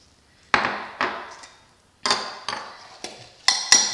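A spoon or utensil knocks and scrapes in a bowl while meatloaf mixture is stirred with sweet chili sauce, giving about eight separate, fairly close taps and clinks with short pauses between them.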